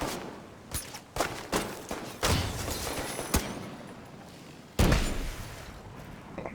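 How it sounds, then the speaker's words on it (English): In The Division 2, scattered gunshots ring out, then a dense stretch of firing, with one heavy blast near the end, likely the seeker mine going off. "Let's try out this Seeker mine, see how it works."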